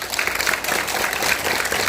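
An audience claps at a school supplies and feeding event in a barangay, giving a brief, dense burst of steady applause from a gathered crowd.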